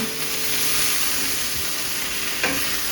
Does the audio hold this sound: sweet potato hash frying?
yes